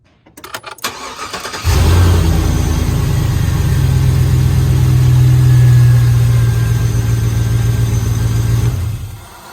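A car engine on a fuel injection and fuel pump test cranks briefly, catches, and settles into a loud, steady idle close by, cutting off at the end.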